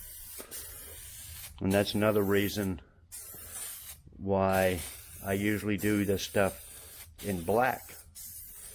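Spray paint hisses in bursts as interior trim pieces for a 1978 El Camino SS are coated black, mostly under someone talking close by.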